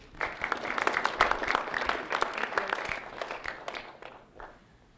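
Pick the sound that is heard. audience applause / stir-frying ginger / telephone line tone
audience applause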